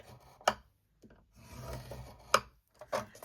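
A scoring tool drawn along patterned paper for a hinged-lid chocolate bar box, giving a few short, close scraping and rubbing strokes separated by brief quiet gaps.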